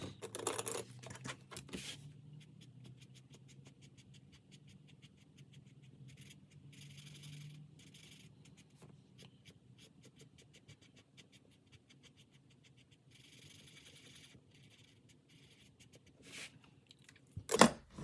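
Soft, continuous scratchy strokes of a pen or marker colouring in boxes on a paper savings challenge sheet, close and quiet, with occasional paper rustles and a louder handling bump at the end.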